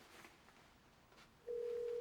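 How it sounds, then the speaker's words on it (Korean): A steady telephone tone begins partway through and holds unbroken to the end, heard while dialing back a pager number, loud and close after a quiet, faintly noisy lead-in. "영원할 것 같은 연결음이 끊긴 순간"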